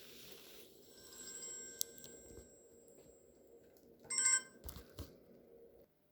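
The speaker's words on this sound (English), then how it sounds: "my phone went off there unexpectedly" A mobile phone rings unexpectedly indoors with a quiet electronic ringtone, thin tonal chirps rising over a low background hum and then breaking into a brief louder burst before fading out.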